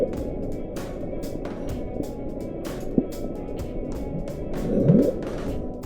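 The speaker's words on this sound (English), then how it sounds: "a low-frequency underwater sound was observed in the South Pacific Ocean that people still debate today" The Bloop, a low-frequency underwater sound recorded in the South Pacific Ocean, heard as a continuous deep rumbling roar with scattered faint clicks and a brief rising swell near the end.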